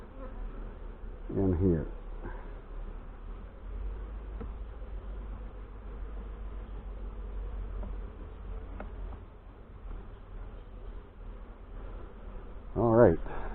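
Steady low insect buzzing from many honey bees at an open hive fills the background throughout, with brief bursts of nearby speech near the start and end.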